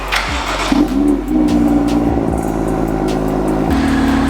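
An F87 BMW M2 revs and pulls away while driving, a loud mid-pitched engine note rising and falling through gear changes and holding a steady drone, recorded close with no talking.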